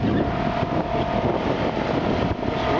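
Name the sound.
engine of restored 1963 MFG Runabout boat cruising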